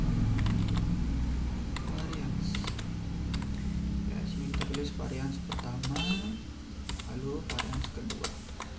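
A formula being typed on a computer keyboard, a steady run of close, crisp key clicks in quick bursts, mixed with a person talking.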